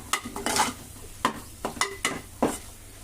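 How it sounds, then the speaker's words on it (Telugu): A spoon stirs ground pepper, cumin powder and chicken masala with chicken in a hot pan, giving sharp scraping strokes at an uneven rhythm over a faint sizzle, close and clear, with no talking. "ఇప్పుడు ఒకసారి కలుపుకుంటున్నాను."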